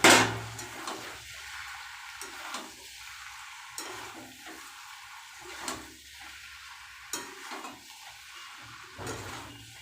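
Taro stolon and shrimp curry being stirred in a pan, with soft scraping strokes and a gentle low sizzle that recur every couple of seconds, close and fairly quiet, with no voices.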